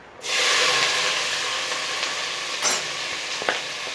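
Spices frying in hot oil inside a pressure cooker, a sudden loud sizzle that starts at once and hisses steadily for several seconds, with brief bursts of crackle and stirring scrapes, close and without talk.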